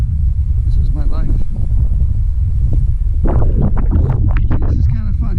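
Strong wind buffets the microphone outdoors on a freezing day, a loud, constant low rumble that runs the whole time. Someone talks over it throughout.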